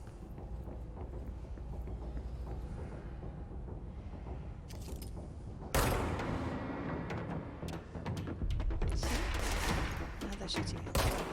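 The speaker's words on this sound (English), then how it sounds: "Now they're shooting me." Enemy gunfire in the video game Control, with scattered shots and bursts that grow louder and denser in the second half, mixed with game sound effects.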